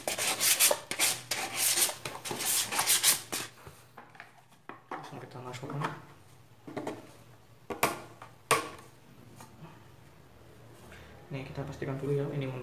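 Abrasive rubbing on PVC pipe while smoothing it before gluing, a run of rapid rasping strokes up front followed by scattered scrapes and handling noises, with some speech.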